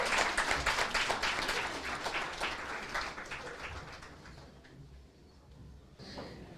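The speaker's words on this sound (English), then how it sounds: "Can we give another round of applause for Mr." Black-tie gala audience applauding a keynote speaker, a dense wash of many hands clapping loudly at first, then thinning and fading toward the end with a brief swell near the close.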